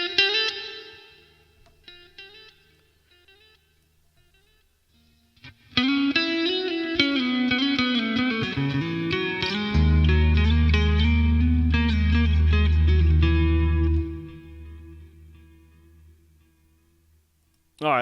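An electric guitar runs through a Boss Katana MK2 amplifier set for a tape echo delay, with sustained distorted notes and chords whose repeats smear and fade out before a loud chord rings on and decays.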